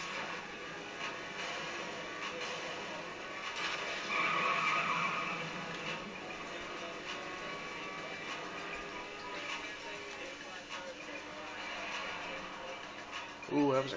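Car drifting with squealing tires in the video game Saints Row the Third, a sustained skidding screech with engine noise that swells midway, continuous and fairly loud throughout.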